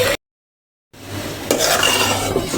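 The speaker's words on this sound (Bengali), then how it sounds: "এটার ভিতরে আমি এখন চালগুলো দিয়ে দেব।" Rice is added to cooked, braised meat in a pot and stirred with a metal spoon, giving scraping, clinking strokes against the pot after a short silent gap, with a faint sizzle underneath.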